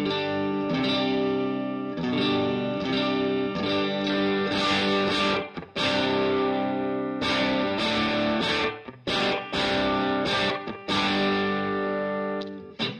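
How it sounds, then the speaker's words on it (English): Electric guitar with a dual-tone neck setup playing chords and single notes through an amp on a clean tone, ringing sustained tones with a few brief pauses, steady and fairly loud. "here's my clean tone coming from the dual tone neck setup here"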